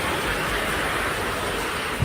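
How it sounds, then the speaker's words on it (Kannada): A summer storm of heavy rain and strong wind in Chikmagalur, Karnataka, sounds as a dense, continuous roaring hiss that stays loud and steady throughout, with no voices. "ಇವತ್ತು ಕೂಡ ಬಿರುಗಾಳಿ ಸಹಿತ ಮಳೆ ಸುರಿದಿದೆ"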